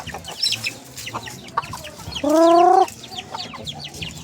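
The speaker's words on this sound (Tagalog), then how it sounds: "Yan, mga malalaking manok ni Jack." Large chickens cluck and chatter nearby in short bursts, with one louder, drawn-out squawk partway through.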